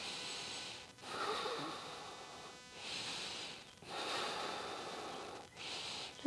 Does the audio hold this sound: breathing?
yes